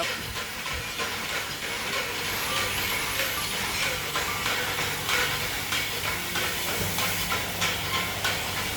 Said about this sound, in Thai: ปล่อย ไนโตรเจน ปล่อยหมดเลย